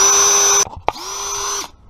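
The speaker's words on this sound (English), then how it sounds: "I recommend pre-drilling all your holes." A power drill whirs steadily for about half a second pre-drilling a screw hole in wood for a bench, stops with a click, then spins up again for another second before winding down.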